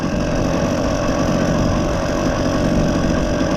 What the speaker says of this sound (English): We're doing 25 and it is hesitating a bit, the engines always do, but Ricky, just do it.